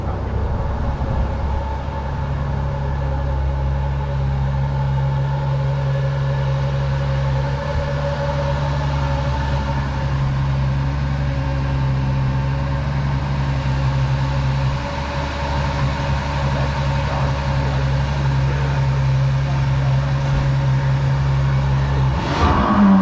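A deep Ferrari engine idles and revs with a steady low rumble, sustained and fairly loud, ending with a brief sharper burst.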